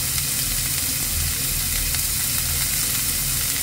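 Vegetables for bihon guisado fry in a hot pan with a steady, loud, dense sizzle and crackle that runs unbroken throughout, with no talking.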